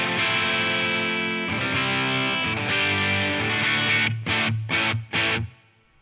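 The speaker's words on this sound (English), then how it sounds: "Sounds like reverb guitar to me." An electric guitar rings out sustained chords drenched in spring reverb from a Line 6 HX Stomp, with a few choppy strums near the end before the sound decays.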